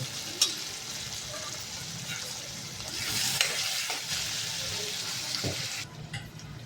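Kohlrabi vegetable being stirred and sautéed in a pan, with a steady close sizzle and scraping stir strokes throughout, a brief louder clink near the start and no talking.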